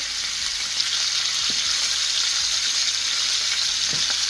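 Steady loud sizzling of beef frying in a wide pan, with occasional stirring scrapes and no voices.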